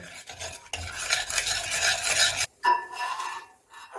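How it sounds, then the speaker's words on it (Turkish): A utensil scrapes and stirs food in a pan with vegetable oil, a light sizzle, in close, uneven strokes with brief pauses. "İyicene karıştırıyorum."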